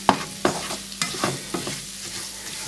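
Tomato paste frying in a pan for a Sri Lankan chicken curry, stirred in a steady rhythm of about two scrapes per second over a close, constant sizzle.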